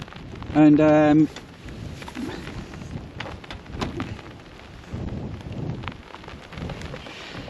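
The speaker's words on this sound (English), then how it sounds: "it's starting to rain again." Rain falling at the Huttoft beach car terrace, a soft, steady patter of drops. A brief voice and a short tonal burst sound near the start.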